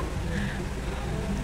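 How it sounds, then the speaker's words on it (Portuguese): Rain falls at a mountain-road lookout in the Serra do Rio do Rastro, Santa Catarina, as a soft, steady, even hiss that holds without a break. "Tá chovendo aqui?"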